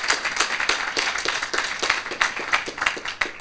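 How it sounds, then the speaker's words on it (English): Conference audience applauding the event organizers, a steady patter of many hands clapping at moderate distance, fairly loud and continuous for a few seconds. "Big applause for them"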